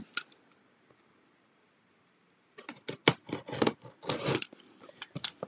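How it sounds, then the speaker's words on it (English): Scissors snip and rasp through a cardboard box in a quick run of close, crisp cuts that starts after a quiet stretch with a few faint taps. "I'm just using these scissors."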